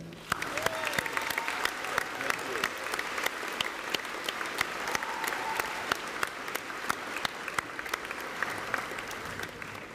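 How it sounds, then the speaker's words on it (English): Long, steady round of applause from a graduation crowd in a high school gymnasium, dense clapping sustained at even loudness throughout with a faint voice or two underneath. "recognize your support system both back there and around this gymnasium with a"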